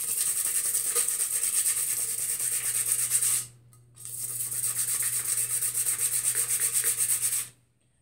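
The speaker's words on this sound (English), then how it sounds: "basically I'm just going to sand it down" Folded sandpaper rubbed by hand over a tumbler being prepared for epoxy and glitter, a close, rhythmic scratchy rasp of quick strokes that pauses briefly midway, then continues before stopping abruptly.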